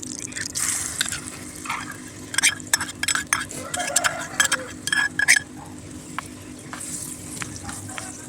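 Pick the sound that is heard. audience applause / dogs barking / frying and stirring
frying and stirring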